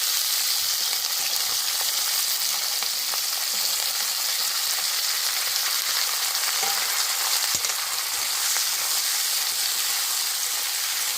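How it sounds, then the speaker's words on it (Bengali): Potatoes fry in a pan together with spring onion, tomato and peas. The sizzle is continuous and dense, with faint stirring clicks now and then and no voices. "সব ভাজা হয়ে গেছে এবার পেঁয়াজ কলি টমেটো কড়াইশুটি সবই দিয়ে দেবো"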